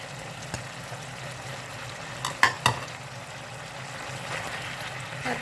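Squid stir-fried with holy basil leaves in a pan crackles with a steady, moderate sizzle, broken by a few sharp clinks and scrapes of a utensil against the pan midway.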